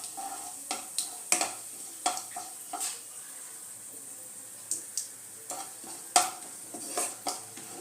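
Whole garam masala and cumin seeds fry lightly in oil with a faint sizzle. Sharp, intermittent spoon clicks and scrapes against the pan come in short clusters, separated by quieter gaps.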